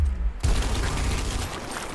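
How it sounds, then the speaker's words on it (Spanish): Gunfire in the video game Gears Tactics, a loud burst of shots that starts abruptly after a short moment of near silence and rumbles on as a sustained volley. "Vamos a darle este disparo."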